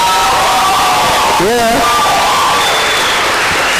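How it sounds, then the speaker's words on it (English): Crowd at a youth program campus opening cheering and whooping as someone is welcomed on stage, loud and close with a shouted voice rising above the noise. "A big round of applause"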